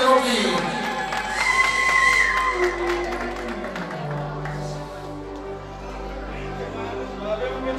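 Cheering and clapping from a wedding crowd, loudest at the start and then settling into a steady murmur of voices with scattered claps and shouts.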